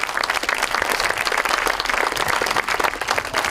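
Audience at a school theatre performance gives dense, loud, continuous applause, a steady wash of many hands clapping close by throughout the short stretch, with no voices over it.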